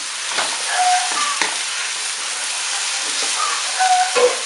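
Spaghetti stir-fries in a pan with a splash of pasta water for a holy basil dish with fresh shiitake mushrooms, a steady close sizzle broken by several clattering stirs and scrapes, no voices.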